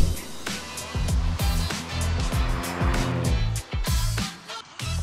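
A 1978 Lotus Esprit S2 engine runs loud and close, its revs rising and falling in repeated rhythmic surges with a steady mechanical roar underneath.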